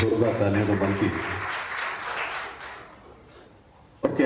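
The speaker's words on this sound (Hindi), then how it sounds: "जोरदार तालियां तो बनती है।" Applause at the inauguration ceremony of a college for deaf and mute students in Jodhpur, a broad crowd clapping that begins under a man's amplified speech, swells, then fades before he resumes talking.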